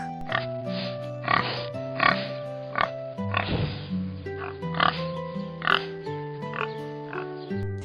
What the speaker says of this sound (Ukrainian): А ось свинка. Вона каже Рох-рох-рох.